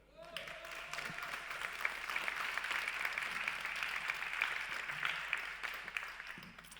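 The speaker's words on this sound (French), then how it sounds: "on peut te remercier et on peut t'applaudir." Warm applause from a conference keynote audience in France, a dense steady patter of many hands clapping that swells quickly and holds at moderate volume for several seconds before beginning to thin out.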